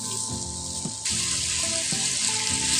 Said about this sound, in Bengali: মশলার সঙ্গে ডুমুরটাকে ভালোভাবে আমরা কষিয়ে নেব।